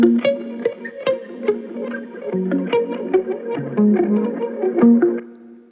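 Electric guitar phrases ringing over a chaotic, swirly Crystallizer pitch and delay wash that fades in and thickens beneath them, plucked notes with echoing, warbling tails, fairly loud and without voices.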